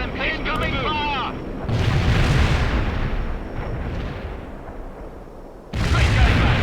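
Incoming hostile fire in the World in Conflict video game: a burst of heavy explosive booms and rumbling blasts with voices and radio chatter over them, ending in a second loud impact.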